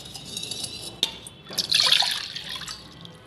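One cup of water poured into a pot for ginger kadha, a short liquid splash and fill after a small clink, close and fairly quiet, with no speech.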